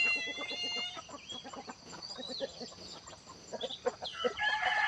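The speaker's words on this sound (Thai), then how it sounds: "ไก่เขาจะรู้ว่ามีเหตุเพศภัยเขาก็จะร้องส่งเสียงดังเตือนเพื่อนได้" Chickens and a rooster at a temple farmyard after rain, giving agitated alarm clucks in rapid repeated bursts with crowing calls, fairly near, alongside other birds and faint background noise.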